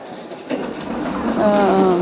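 A train at a railway station in Denmark rumbles close by, its wheels squealing in a rising, sustained metallic whine over the steady roar, loud and free of talk.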